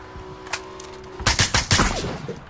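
Gunfire in the PUBG battle royale game: a few sharp single shots followed by a rapid burst of loud cracks with echoing tails, close and dominant, no talk over it.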